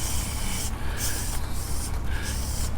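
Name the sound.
spraying Lysol disinfectant on shopping cart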